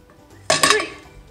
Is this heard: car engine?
no